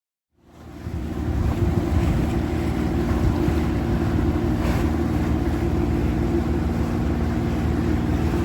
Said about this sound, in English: we had the engine started and we were away towards the bridge